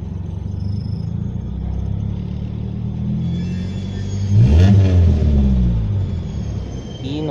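A 1993 Nissan Tsuru with a faulty TPS sensor idling at low revs around 575 rpm, a steady close engine rumble that briefly swells with a rev midway before settling again.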